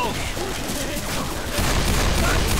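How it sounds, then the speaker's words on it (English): Continuous, loud gunfire in Left 4 Dead 2 during the Gib Fest mutation, dense and rapid, swelling heavier partway through, with shouting voices mixed in. "Just shoot the thing off of me!"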